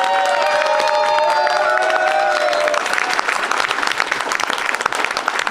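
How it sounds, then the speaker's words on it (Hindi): A crowd at an anniversary celebration in Noida and Jaipur claps loudly and cheers, with shouts and whoops over dense applause at first, then the clapping continues on its own, near and lively. "आप देखिए तालियां बज रही हैं"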